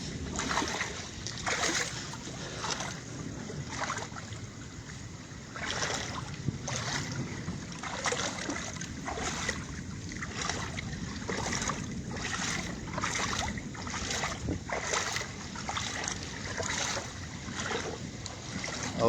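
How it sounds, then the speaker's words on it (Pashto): Floodwater flowing steadily through a small gate into a house during a flood, a continuous broadband rush with surging, splashing pulses, close and fairly loud. "او دغه کور ته چې کومې اوبه روانې دي نو دا په دې ورکوټي ګیټ دننه کېږي"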